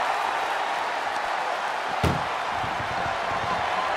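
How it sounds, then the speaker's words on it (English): Ambulance doors slam shut in a wrestling video game, a single sharp loud bang midway through a steady wash of game background noise. "into the back of the ambulance, shut the doors,"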